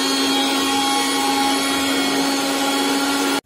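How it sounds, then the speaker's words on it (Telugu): A mixer grinder whirs loudly and steadily as it blends peanuts, green chillies and salt, then cuts off abruptly just before the end. "సో ఇప్పుడు మనం దీన్ని మిక్సీ చేసేద్దాం"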